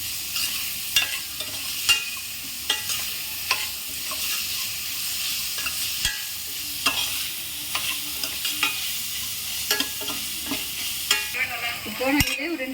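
Finely chopped carrots sizzle steadily in hot ghee in a pan for carrot rice, with a spoon scraping and stirring at intervals, producing clear knocks over the continuous frying hiss.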